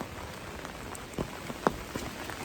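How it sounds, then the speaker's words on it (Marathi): Light rain patters steadily on a surface, with a few louder individual drops standing out against the soft continuous hiss. "आता बारीक बारीक पडते असाच बारीक बारीक पाऊस"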